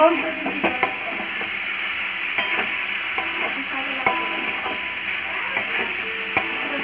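Curry sautéing in a pan with an even sizzle, punctuated by repeated sharp clicks and scrapes of a spoon at irregular intervals, close by.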